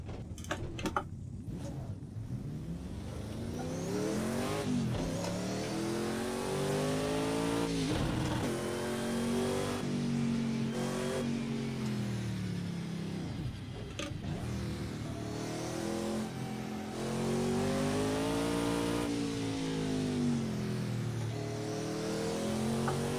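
Race car engine in Project Cars 2, revving loudly and continuously with rising and falling pitch as the car accelerates and shifts, close and steady throughout with no talk.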